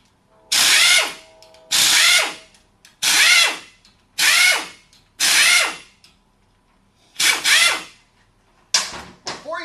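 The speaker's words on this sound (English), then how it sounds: "I'm going to remove the bolts with an impact." Impact wrench rattling off bolts from a Sanden AC compressor, six loud bursts of about a second each with short pauses between, then a brief final burst, up close with no talk.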